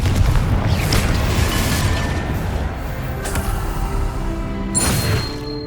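Repeated Confringo spell blasts in the Hogwarts Legacy video game make deep booming explosions, several heavy bursts with ringing tonal effects in a dense, continuous battle mix.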